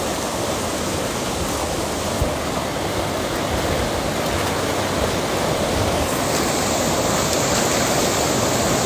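A powerful rushing waterfall pours with heavy force, producing a loud, steady, unbroken roar from start to finish, with no voices over it.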